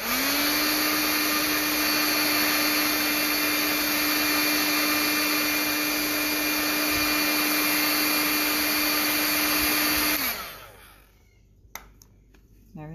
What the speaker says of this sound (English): I'm just going to use the heat gun to melt the top layer of wax to fill in that hole right there